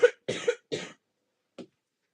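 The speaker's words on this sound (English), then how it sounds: "I had a panic cough then" Three quick coughs in a row, then a single softer cough after a short pause, close and clear against silence.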